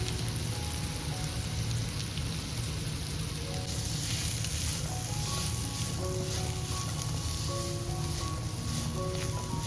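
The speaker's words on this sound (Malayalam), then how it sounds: "മസാലയൊന്ന് വഴന്നു വരുന്ന സമയം ഇതിലേക്ക് അരിഞ്ഞു വെച്ച ബീറ്റ്റൂട്ടും ക്യാരറ്റും കൂടെ ചേർത്ത് കൊടുക്കാം" Chopped beetroot and carrot frying in masala, a steady hissing sizzle that brightens partway through, with soft background music notes over it.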